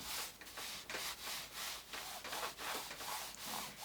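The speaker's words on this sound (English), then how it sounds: "Just rub it with your hand." A hand rubs back and forth over a scrap wood frame piece in quick, even strokes, producing a soft, steady scuffing rhythm heard close up and alone.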